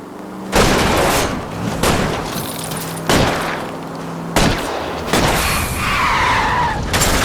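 Gunshots fired at a fleeing car's tires during a chase in the video game L.A. Noire, several sharp loud cracks spaced a second or two apart over a continuous roar of engine and skidding tires.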